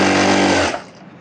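Sewing machine stitching a blouse belt: a loud, close motor whir that runs for under a second, then stops abruptly, leaving faint room noise.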